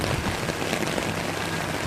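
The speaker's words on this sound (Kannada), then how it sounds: "ನೀರು ರಭಸವಾಗಿ ಹರಿಯುತ್ತಿದೆ, ಅತಿ ಹೆಚ್ಚು ವೇಗವಾಗಿ ಹರಿಯುತ್ತಿದೆ" Rainwater rushing fast across farm field beds after an hour and a half of heavy rain, a dense, steady broadband wash of flowing water, loud and close throughout.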